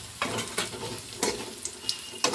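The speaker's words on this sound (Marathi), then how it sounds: "आता आपण कूट हलवून घेऊ त्याच्यात." Crushed roasted peanut powder being stirred in a frying pan for a Shimla mirch (capsicum) sabzi, with a soft continuous sizzle and several sharp scraping strokes of a spoon against the pan, close and alone.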